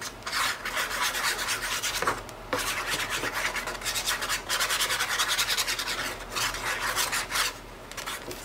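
Ink being rubbed onto the trimmed edges of patterned paper for a mini scrapbook album, a steady dry scratchy rasping in repeated strokes with brief pauses, close and fairly loud, no talking.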